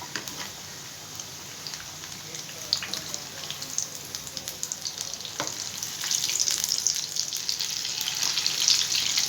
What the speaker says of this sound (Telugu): మీడియంలో ఉంచి వేయించండి.